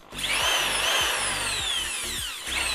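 A Bosch power drill runs close and loud, its whine rising and falling repeatedly as the trigger speeds it up and slows it down, with no talking.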